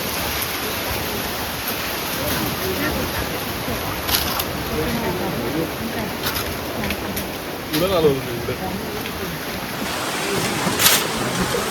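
Steady rushing surf on the sea at Korlai, near Alibag, fills the whole stretch, broad and constant, with a voice speaking faintly over it.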